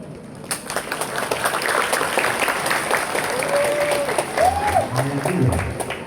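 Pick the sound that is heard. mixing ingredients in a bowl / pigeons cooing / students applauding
students applauding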